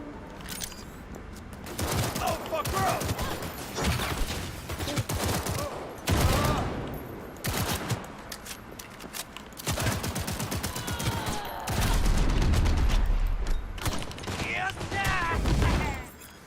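Cyberpunk 2077 gunfire: repeated bursts and rapid volleys of shots, loud and close, with brief lulls and someone talking over parts of it.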